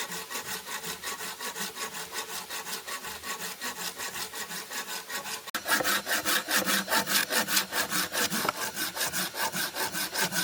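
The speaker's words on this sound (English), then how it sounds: "We cut the timber to the length we needed, preparing a solid wooden post for the new frame." Hand saw cutting through a solid timber post outdoors, with rhythmic back-and-forth rasping strokes, steady and close, growing louder and quicker in the second half, no talking.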